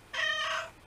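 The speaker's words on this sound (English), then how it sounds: "Having fun with my cat." A house cat lets out a single clear, drawn-out meow lasting about half a second, close and loud in an otherwise quiet room.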